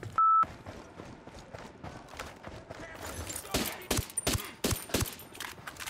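Pistol gunshots in the video game Ghost Recon Wildlands, several sharp cracks in the second half, loud and close, following a short electronic beep at the start, with a voice talking underneath.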